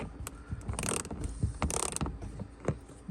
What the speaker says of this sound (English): this is just a standard size ratchet